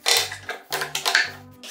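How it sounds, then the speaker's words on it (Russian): A 4 cm hole drilled into a plastic end cap from a 50 mm pipe, three close bursts of grinding drill noise with brief pauses between them. "Беру заглушку от той же 50-й трубы и сверлю отверстие диаметром 4 см."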